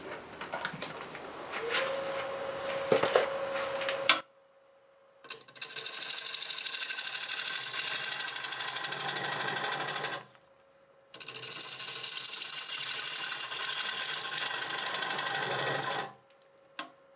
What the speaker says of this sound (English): I think I'll start with a 5/8 bowl gouge, about 700 RPM.